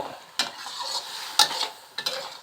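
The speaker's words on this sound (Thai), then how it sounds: "เสร็จแล้วก็เร่งไฟสักนิด นี่ครับทำการคลุกเข้า" Eel being stir-fried with red curry paste over raised heat, soft sizzling with a few sharp spatula scrapes and knocks against the pan, close, no voices.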